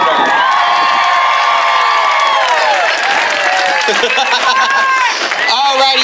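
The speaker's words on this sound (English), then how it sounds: "So make another round of applause for Chloe Quarter Pounder." Loud crowd applause and cheering with whoops at an outdoor Pride celebration in Monterey, California, a steady dense roar that swells and continues throughout, with voices shouting over it.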